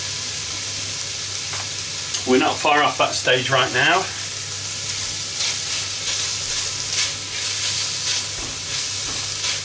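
Beef stir-frying with ginger and spring onions in a hot pan, a continuous sizzle and hiss running throughout while someone speaks over it for a few seconds.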